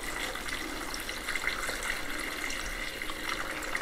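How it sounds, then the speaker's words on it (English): Steady rushing of water pours from a tap into a 30 to 50 litre container of lime, making a continuous, even splashing fill with no voices. "this is literally all we're going to do is just fill it up with water"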